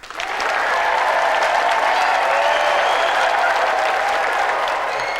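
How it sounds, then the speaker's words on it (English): A TV game show studio audience breaks into loud, sustained applause that holds steady for several seconds, filling the room with dense clapping. "Round of applause for Jack."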